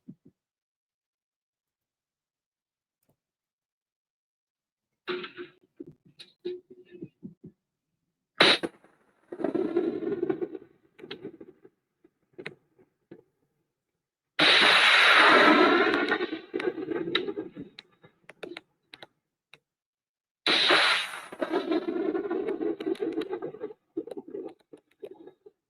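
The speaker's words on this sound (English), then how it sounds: "they fired 4 missiles from a launcher" A Pinaka multiple rocket launcher fires missiles in a played-back recording, heard as several loud, broad roaring blasts separated by quieter gaps and scattered crackles.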